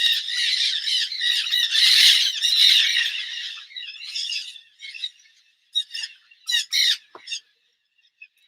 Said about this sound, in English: That was about 50 wild parrots. Just went over my head.